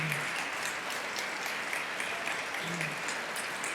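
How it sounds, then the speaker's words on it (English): Applause fills a large hall during a governor's State of the State address, a steady, moderately distant crowd clapping without a break throughout. "yes, give them applause"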